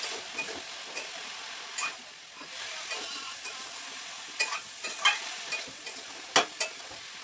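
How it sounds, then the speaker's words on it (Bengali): Malabar spinach (pui shak) curry seasoned with ground fenugreek being stirred in a pan, a spoon scraping and pushing the greens in soft, irregular strokes over a low sizzle, with a few sharper clinks against the pan. "দিয়ে এবার ভালো করে নেড়ে দিলাম, সেদ্ধ করতে দিলাম।"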